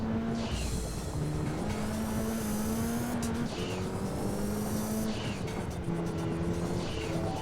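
Evo 5 rally car driving in Gran Turismo 2, a steady engine drone rising and falling in pitch with gear changes over rough road noise, close and continuous throughout.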